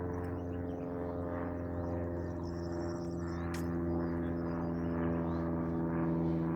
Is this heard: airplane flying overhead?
yes